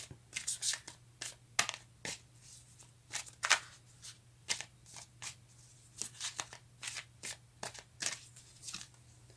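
Tarot cards are shuffled and handled close up in a quiet room, a series of sharp riffling flutters and soft slaps in irregular bursts over a low steady hum.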